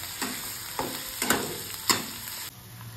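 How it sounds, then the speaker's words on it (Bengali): Sliced onions for mutton tehari sizzle quietly in a pan, with a few sharp scrapes and clinks as they are stirred at irregular intervals. "তো আমরা পেঁয়াজটাকে এবার একটু ভুনে নেব, যতক্ষণ না লাল লাল হচ্ছে"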